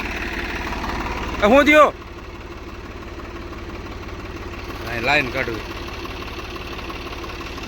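A tractor engine idling steadily on a farm with vegetable plots, a low continuous rumble running throughout while people speak briefly over it twice.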